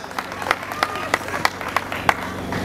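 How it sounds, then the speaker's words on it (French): An audience claps in a French classroom-style talk, a series of sharp separate clap bursts at a steady rhythm, fairly close, over a low steady hum. "Applaudissez pour vous-même, vous êtes intelligents"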